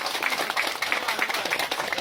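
A crowd applauds a senator and staff at a gathering, steady clapping filling the whole stretch at moderate level with no voices over it.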